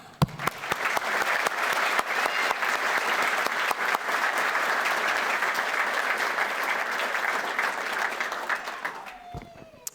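Sustained, loud crowd applause at a Madison Fire Department recruit graduation ceremony continues steadily for about nine seconds, then stops abruptly with a brief thump at the end.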